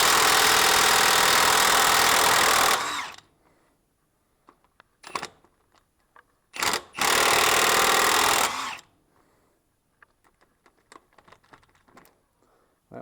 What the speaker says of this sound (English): not much of a challenge for the half-inch Milwaukee